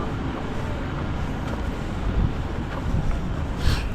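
Steady, gusty wind at the Tops of Cebu lookout buffets the microphone throughout, a rough low rumble with a few stronger puffs near the end; no voices.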